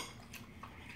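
A knife saws through beef steak on a plate, with scraping and clinking of metal cutlery against the dish in short, close strokes, alone without talk.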